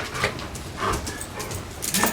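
A dog eager for a walk whimpers and yips in short, high bursts at close range, several brief whines spaced across the moment, without clear speech.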